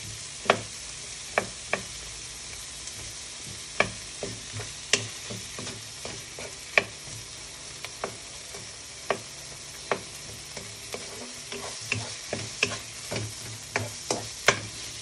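Crushed shrimp heads sauté in a hot pan for a chayote dish, sizzling steadily up close while a utensil stirs and taps the pan in irregular clicks.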